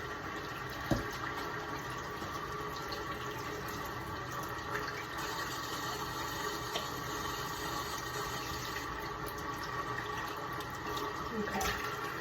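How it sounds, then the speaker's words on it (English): Tap water runs steadily while hands are washed at a sink in a clinical setting, a faint continuous splashing stream with soft talk over it. "That's a good way to ensure you have properly washed your hands."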